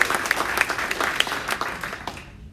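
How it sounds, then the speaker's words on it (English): Warm round of applause from an audience at a small business of the year awards ceremony, steady clapping with a few louder claps, fading out toward the end. "Let's give them a round of applause."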